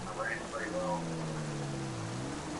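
Rain falls as a steady, even hiss while a Corvette ZR1 is driven in a modded driving game with a 7-speed manual. A voice talks over it throughout.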